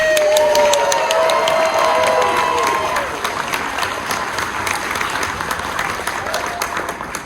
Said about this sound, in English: Give us a round of applause if you love dinosaurs